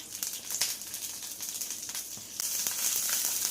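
Mustard seeds, urad dal, curry leaves and a chili sizzle and crackle in hot oil, with a steady close frying hiss and a few sharp pops, getting louder near the end.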